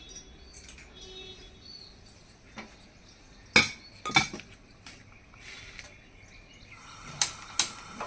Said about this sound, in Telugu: ఇప్పుడు మనం వడలు వేసుకోవడానికి స్టవ్ అంటించి కళాయి పెడదాం